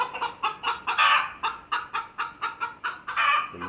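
Chicken clucking close by in a quick, regular series of short bursts, about a dozen clucks with a few louder, fuller ones, with no one talking over it.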